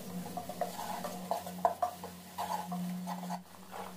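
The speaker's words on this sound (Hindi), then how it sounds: "अब हम मसाले को भूनेंगे अच्छे तरीके से।" A spoon scrapes and stirs spices roasting in a pan, including coriander powder, for a sabz turi dish, with repeated metallic clinks and scrapes over a steady low hum and a soft sizzle.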